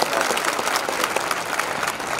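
A crowd bursts into steady, dense applause that holds at an even loudness for the whole stretch, with no one speaking over it.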